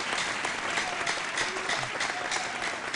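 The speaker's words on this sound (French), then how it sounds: "Je crois véritablement qu'on devrait l'applaudir très," An audience claps at a Friday evening show, a dense, even roar of many hands that continues steadily throughout with no voices on top.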